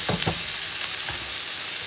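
Onions, peas, corn and carrots sauteing in a pan give a continuous close sizzle, with a few quick scraping stir strokes near the start and another around the middle.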